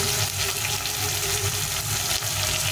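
Chopped tomatoes with cumin sizzle and fry steadily in a pan, a loud, constant hiss that continues without break.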